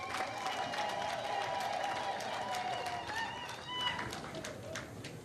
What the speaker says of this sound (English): Let us welcome His Excellency the President to our International Women's Day 2025 here in Chankwansi with a loud hand clap.